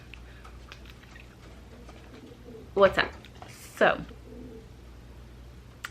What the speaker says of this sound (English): you could hear the pigeons on my windowsill.